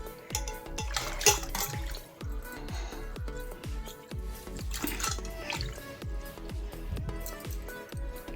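Repeated wet splashing and sloshing as goat tripe and intestines are dunked and rinsed in water, with dripping between the rhythmic plunges.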